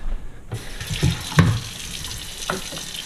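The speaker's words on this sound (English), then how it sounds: "after washing your hands" Water runs steadily from a kitchen tap over hands being washed while cooking savoury soy chicken thighs, a continuous splashing hiss that begins after a brief quiet moment, with a few louder splashes and clatters along the way.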